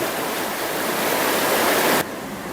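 Water pours from a dam spillway as a loud, steady broadband rush, which drops sharply to a softer roar near the end.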